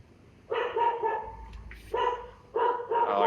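A dog barks close by in several loud bursts separated by short pauses, with no one talking over it.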